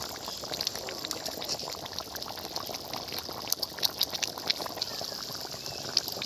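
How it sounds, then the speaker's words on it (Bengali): Curry of elephant foot yam and prawns bubbling in a pot, a constant close simmer of small popping bubbles and liquid gurgles with occasional louder pops. "তরকারি ফুটে গেছে।"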